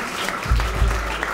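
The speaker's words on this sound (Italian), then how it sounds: "Un applauso ai ragazzi che si sono imparati il coro greco durante la cena" Live audience at a Bravo Caffè concert claps steadily and densely for choir singers, a continuous wash of applause filling the short moment.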